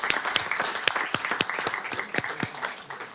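An audience at a city council meeting gives a short burst of applause: dense, close hand clapping for about three seconds that thins slightly toward the end.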